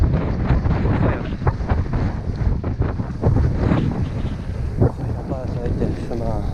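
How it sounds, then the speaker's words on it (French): Strong gusting wind buffets the microphone beside the Seine at a sailing club, a loud, ragged rumble that surges and eases throughout, with faint speech-like sounds under it. "Là, c'est carrément un vent de ouf."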